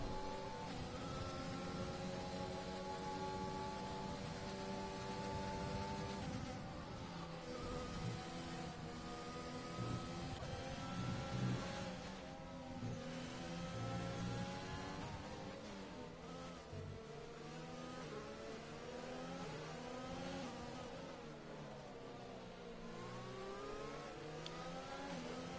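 F1 race cars scream around the Zandvoort circuit in a racing video game, a continuous high-pitched engine whine with rising and falling revs as the cars chase each other, loud and unbroken throughout.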